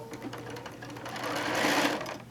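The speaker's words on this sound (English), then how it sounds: "I'm going to start sewing from the pencil side, from the left side of the quilt." A sewing machine runs steadily while stitching a quilt from its left side, a continuous close-up whir that climbs slightly louder toward the end, with no talking over it.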